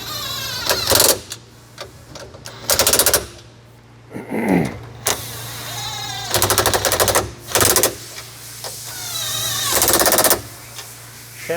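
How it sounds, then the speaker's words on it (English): An impact wrench snugs the bolts on a Polaris Ranger 2-inch lift kit. It fires in several loud, rapid rattling bursts, with quieter pauses and a brief clank between them. "you can just utilize your ratchet or your impact"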